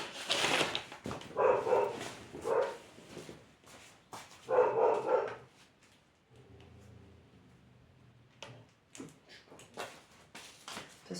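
A dog barks in several sharp, loud bursts, repeated yips and barks clustered over the first half. Quieter shuffling and a few faint knocks follow, with no talk.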